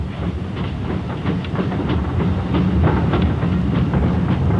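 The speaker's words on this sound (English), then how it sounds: "As the very last train left the terminus," The last branch train pulls away from the Hayling Island terminus on a country railway, a loud steady rumble with rhythmic clickety-clack of wheels and a faint hiss, no voices.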